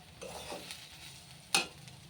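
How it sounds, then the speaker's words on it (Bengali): Semolina (suji) is stirred as it fries in a pan, giving soft scraping strokes over a faint sizzle and one sharp utensil clink near the end, close and quiet. "এবারে ভালো করে নেড়ে নিতে হবে, নাহলে সুজি লেগে যায়, দলা পাকিয়ে যাবে"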